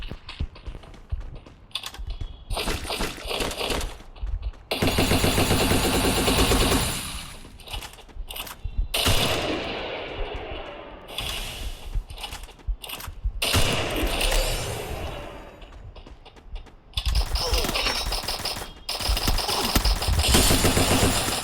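Gunfire crackles during a fight in an online shooter game, with loud, dense volleys of automatic fire and bursts coming in irregular stretches. Brief quieter gaps fall between the volleys, and the whole sound fills the frame from start to end.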